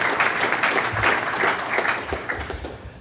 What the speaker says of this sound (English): So why don't we just give them a little round of applause for all the hard work